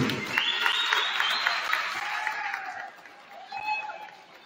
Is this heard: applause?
yes